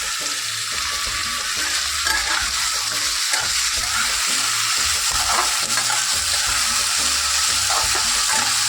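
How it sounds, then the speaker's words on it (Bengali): Sliced potatoes frying in a pan in a home kitchen give a steady, close, loud sizzle with scattered scraping stirs, continuous and without talk. "আলু ভাজছি"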